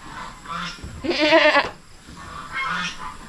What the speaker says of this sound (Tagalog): Ito po yung kambing natin na buwer, oh.